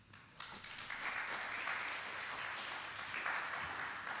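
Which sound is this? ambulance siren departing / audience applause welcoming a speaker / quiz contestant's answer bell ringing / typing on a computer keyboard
audience applause welcoming a speaker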